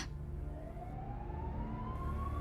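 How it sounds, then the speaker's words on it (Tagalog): An ambulance siren sounds loud and continuous, with a steady rising wail over a dense engine and traffic rumble as the vehicle arrives. "nandito na yung ambulansya"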